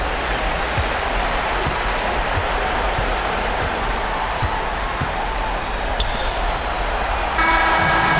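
Dense, steady roar of an arena crowd cheering and applauding in the NBA 2K26 basketball video game after a home victory, sustained throughout with faint court squeaks and a brief horn-like tone near the end.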